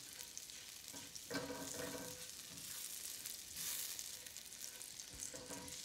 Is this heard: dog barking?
no